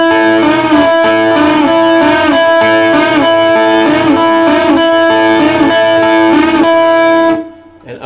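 Electric guitar plays a slow 12-bar blues riff in A with a rhythmic, repeating pattern of sustained, ringing notes, loud and close, alone, ending with the notes cut off and fading out.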